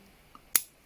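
A ficus bonsai branch is trimmed with a single sharp, close snip, preceded by a faint tiny click in an otherwise quiet room.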